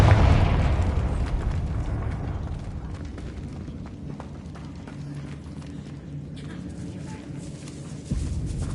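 A Confringo blasting spell explodes in Hogwarts Legacy with a loud, close boom that decays into a rumbling tail, followed near the end by a second sharp blast.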